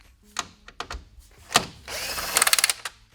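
Socket driver pulling hood screws on a 2005-07 Ford F250, scattered clicks and clinks of tool on metal followed by a short burst of rapid ratcheting, close and moderately quiet.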